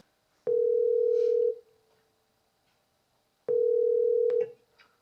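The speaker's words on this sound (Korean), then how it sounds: "전화를 걸어보도록 하겠습니다" Two long ringback tones sound while a call is being placed to a student, each steady beep lasting about a second, separated by silence, with a faint click at the start of each.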